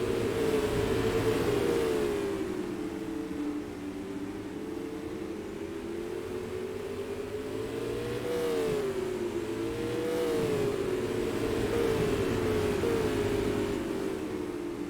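Supermodified race cars running together down the straightaway at Star Speedway in a sim racing game: several engines rev and drone at once, their pitches sliding up and down as they overlap, steady and fairly loud with no voices.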